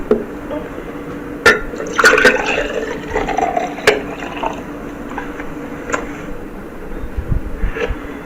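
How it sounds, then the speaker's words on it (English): Juice poured from one glass into another, a liquid splashing and trickling with a few sharp clinks, fairly close and clear with no talk over it. "Now we're going to pour this juice into this glass."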